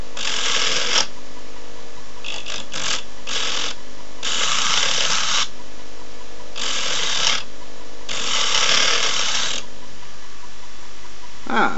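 A disc tool grinds burrs off hacksaw-cut steel rods in a series of loud, rasping bursts of uneven length, separated by short pauses as each rod end is worked.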